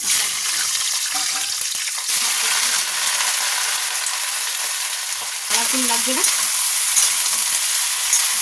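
Vegetables frying with plenty of black cumin in a pan, giving a loud, continuous close sizzle with stirring scrapes, while someone speaks briefly over it.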